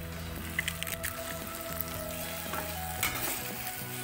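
Egg going into Indomie noodles frying in a pan, a steady close sizzle with soft crackles and stirring scrapes throughout, no talking.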